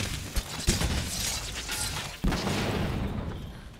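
Gunlance shelling blasts in Monster Hunter World, followed by the Wyvern's Fire cannon: sharp booming shots near 0.4, 0.7 and 2.2 seconds, with a sustained roaring rumble filling the gaps between them.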